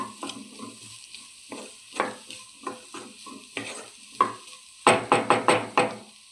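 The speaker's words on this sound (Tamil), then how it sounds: "உப்பு போட்டு இன்னும் நல்லா ஃப்ரை பண்ணணும்." Bitter gourd fries in a pan with salt while a spatula stirs and scrapes, giving a series of distinct clinking knocks over a low sizzle, with a quicker burst of strokes near the end.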